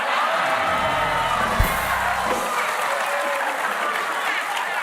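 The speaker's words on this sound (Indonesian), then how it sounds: "Gak apa-apa, tepuk tangan saja." Studio audience at an Indonesian comedy talk show applauds in a steady, dense wash of clapping that holds loud throughout, with a brief sharp knock near the middle.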